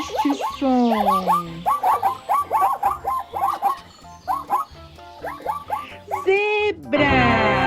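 Zebra call from the African savanna: a rapid series of high, yelping barks and squeaky brays repeated in bursts, ending in a longer honk, close and loud over soft background music.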